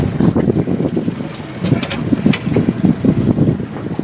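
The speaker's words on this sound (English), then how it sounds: "We were having a hard time in that wind" Gusty wind buffeting the microphone on a boat while trout fishing, loud uneven low rumbling bursts that swell and fade close by, with faint splashy wash underneath and no talking.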